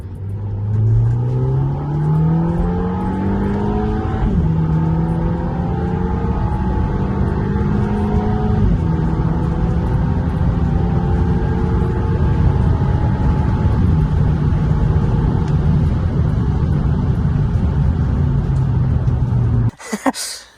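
A car in sports mode kicks down a gear under hard acceleration, its engine note climbing loud and close through a rising pull. A shift steps the pitch down, then it climbs again in a sustained roar that cuts off abruptly.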